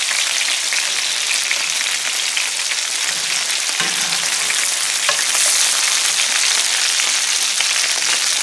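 Cornmeal-crusted lake fish frying in hot oil, a steady, close, loud sizzle with bubbling crackle that runs unbroken throughout, alone with no talking.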